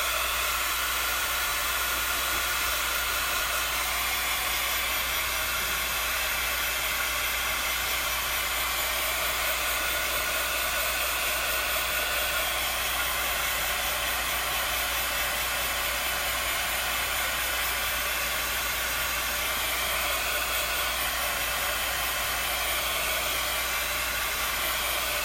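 A hair dryer blows continuously at close range, a loud, even rushing hiss that holds steady without pause or voices throughout.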